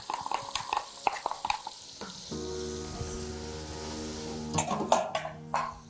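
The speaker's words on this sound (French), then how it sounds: "Voilà, j'ajoute mes oignons." Onions tipped into a pan of browned chicken and frying, with a steady sizzle and scattered stirring clatter, louder bursts of scraping near the end; no one speaks.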